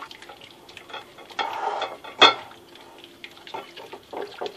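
Dark chocolate melting in a pot while a spoon stirs it, producing soft, close wet scraping and gentle liquid movement, broken by one sharp clink of metal on the rim partway through.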